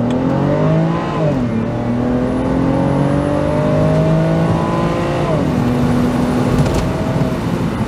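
A BMW Z4's 2.5 litre straight-six engine revs up and falls back twice, with a smooth rising and dropping tone that is loud and close throughout, with no voices.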